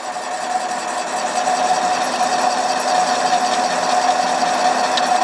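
A metal lathe turns steel against a freshly sharpened cutting tool, giving a steady, close machine whine with a constant tone and a hissing cutting noise, unbroken and with no voices.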